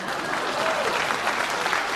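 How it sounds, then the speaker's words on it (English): Applause from an audience, a steady wash of clapping filling two seconds without a break. "Please clap."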